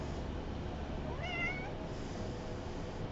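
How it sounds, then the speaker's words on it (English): A single cat meow rising and falling, heard moderately clear over a steady background hiss. "Cat."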